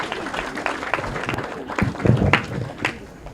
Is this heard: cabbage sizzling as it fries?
no